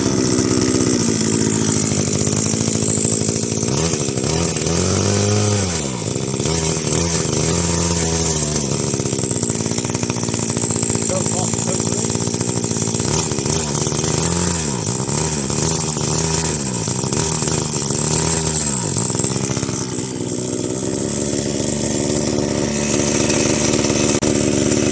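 A Stanley 4-in-1 petrol strimmer, suspected of a clogged carburettor after long disuse, runs close by for about 25 seconds. Its engine revs rise and fall unevenly between rough idle and higher-pitched bursts.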